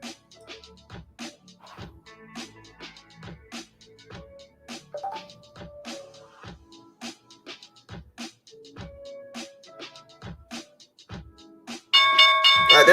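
The stock market opening bell rings as a run of evenly spaced, resonant strikes at moderate volume, followed by a louder, denser burst of sound at the end.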